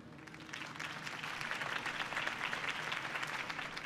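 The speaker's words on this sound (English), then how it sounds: "could have heard that applause" Steady applause from a crowd, a dense patter of clapping that holds evenly for a few seconds, somewhat distant.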